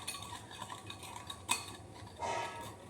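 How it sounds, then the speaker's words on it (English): Mug cake batter with cocoa powder is whisked in a mug, producing soft, quick scraping and clinking of a utensil against the ceramic, with a sharper tap midway and a brief louder stir near the end. "Whisk it up."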